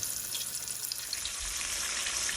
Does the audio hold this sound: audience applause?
no